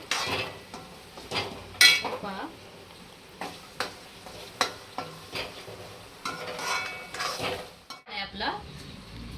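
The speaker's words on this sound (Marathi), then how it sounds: "तुला भाजून घ्यायचंय वाटण परतून घ्यायचं चांगलं" Masala paste for mutton chaap being sautéed and stirred in a pan, with repeated close metallic scrapes and clinks of a spoon against the vessel over a soft sizzle, and a voice talking faintly in places.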